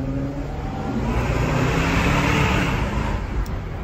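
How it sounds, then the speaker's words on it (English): Audi R8 supercar with an aftermarket exhaust, its engine note swelling loud and close as it revs and passes, a steady broadband roar over about four seconds. "Just an R8 with a nice exhaust."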